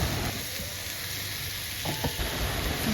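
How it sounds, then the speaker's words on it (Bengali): Pumpkin with turmeric and spices frying in a pan, a steady close sizzle heard on its own, with no speech. "আরও কিছুক্ষণ ভেজে নেব।"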